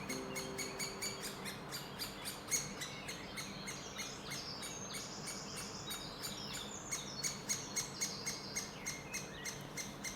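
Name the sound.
young woodpeckers calling to be fed in forest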